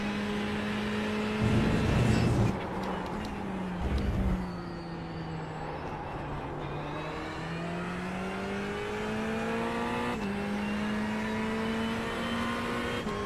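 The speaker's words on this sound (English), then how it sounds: "The BMW on his fast lap." A BMW race car on a fast lap, its engine note loud and close, the pitch rising steadily through the gears with a brief shift dip and continuous revving throughout, no talk over it.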